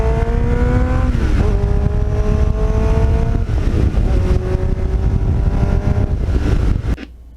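A Kawasaki Ninja motorcycle with a Muzzy exhaust screams loudly up through several gears, each rising whine cut by a brief shift, close and continuous before cutting off abruptly at the end.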